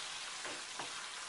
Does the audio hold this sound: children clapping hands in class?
no